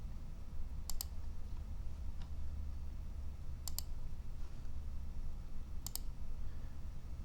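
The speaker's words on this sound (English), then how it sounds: "to cycle through, you just simply left click and you can continue to bubble this drawing" Computer mouse left-clicks come in three crisp double-click pairs spaced a few seconds apart, close and distinct over a quiet room hum, with no talking.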